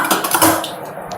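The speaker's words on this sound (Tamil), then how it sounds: "இப்போ கடுகு போடுறேன் ஒரு ஸ்பூனு" Mustard seeds drop into hot oil with a burst of crackling and popping, loud and close, fading to a softer sizzle.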